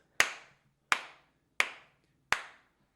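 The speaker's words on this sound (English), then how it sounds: "let's get these claps" Four sharp, evenly spaced hand claps ring out alone in a quiet room, each a crisp single strike with a short decaying tail.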